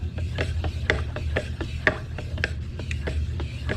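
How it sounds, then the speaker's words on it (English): A wooden yardstick stirs white wash stain in a can, giving a steady run of close scraping and rubbing strokes with small clicks as the stick knocks the sides, with no talk. "Why are you stirring whitewash with my yardstick?"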